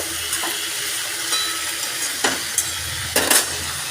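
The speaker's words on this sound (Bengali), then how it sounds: "আমি সবজিটা একটু ঢাকা দিয়ে দেব এটা একটু নাড়াচাড়া করে নেব" Winter vegetables for a Bengali chorchori are stirred in a pan over a steady sizzling hiss, with a few soft scraping clicks of the spoon standing out near the middle and end.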